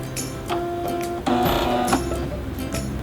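A Bernette B77 sewing machine runs close by with a steady mechanical hum, a few stitching bursts and a short louder stretch in the middle. No one speaks.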